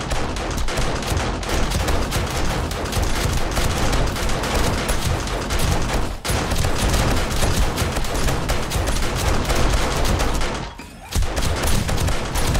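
Automated turrets in 7 Days To Die keep up nonstop rapid fire at a zombie horde during a night horde attack on a base, a loud, dense, continuous barrage with only a brief lull near the end.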